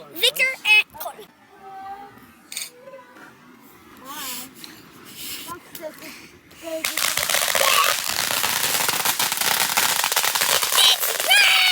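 Fourth of July fireworks and firecrackers go off in scattered sharp bangs, then build into a dense, loud crackling barrage over the second half, with people's voices mixed in.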